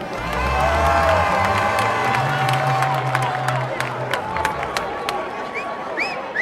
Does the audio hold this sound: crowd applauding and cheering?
yes